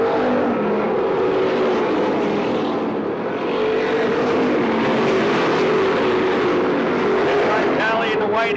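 Stock cars roar around an oval on a racing lap, the leader a green car, engines droning loud and continuous with passing swells while an announcer talks over the noise.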